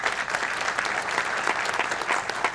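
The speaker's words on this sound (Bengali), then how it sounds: "তার জন্য আমরা একটা জোরে হাততালি দিতে পারি।" A crowd at a public gathering honouring Mamata Banerjee breaks into loud, sustained clapping that stays dense and even for the whole few seconds.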